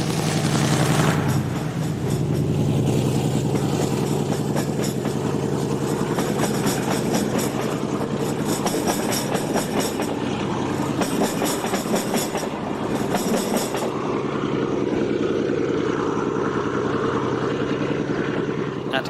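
A Portuguese diesel locomotive departs from Casablanca, its engine thrashing loudly and steadily close by. The roar is accompanied by rail clatter and rhythmic clicking from the wheels.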